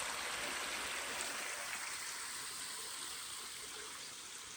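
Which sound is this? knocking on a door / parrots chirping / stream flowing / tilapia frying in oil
stream flowing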